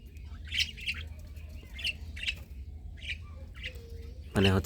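Birds with newly hatched chicks in clay nesting pots, giving repeated short squawks and chirps at a moderate distance over a low background hum, ending in a sudden louder burst.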